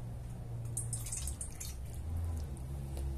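Warm water poured into a bowl for esfiha dough, a steady soft trickle and splash with faint drips, close and continuous with no speech.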